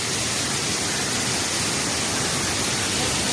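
A waterfall near a village in the Adjara mountains roars close by as a dense, continuous broadband rush, loud and unbroken with no other sounds.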